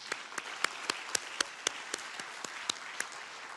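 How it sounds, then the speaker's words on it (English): Sparse, scattered claps from an audience at an ASEAN chairmanship handover ceremony, a round of applause for Malaysian colleagues, sounding thin and somewhat distant, with individual hand claps standing out at an irregular rhythm. "round of applause."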